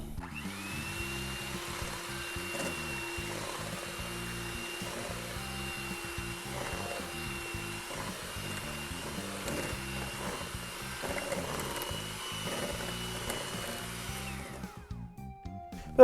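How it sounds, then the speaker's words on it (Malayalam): An electric hand beater whips chocolate sponge cake batter in a steady, continuous motor whine that runs unbroken for most of the stretch before stopping near the end, with no one talking. "അപ്പോൾ ബീറ്റർ വെച്ച് ബീറ്റ് ചെയ്യാൻ തുടങ്ങാം."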